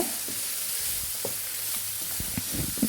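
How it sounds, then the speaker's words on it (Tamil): Broccoli frying in a pan with masala and salt, a steady close sizzle broken by irregular scraping stirs, with no talking. "உப்பு சேர்த்துட்டு எல்லாத்தையும் ஒன்றா நல்லா ஃப்ரை பண்ணி விட்டுக்குவோம்"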